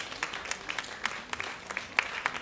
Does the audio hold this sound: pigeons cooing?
no